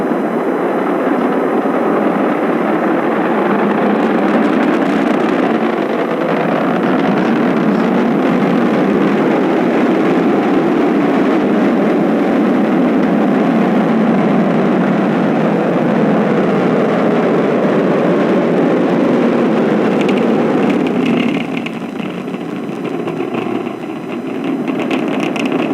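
Falcon 9 rocket carrying the Crew Dragon on NASA's Crew-10 mission climbs downrange, its engine roar a loud, steady, broadband rumble that holds for about twenty seconds before easing slightly near the end.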